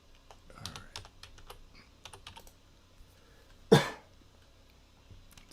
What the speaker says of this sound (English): I'll try not to cough into the mic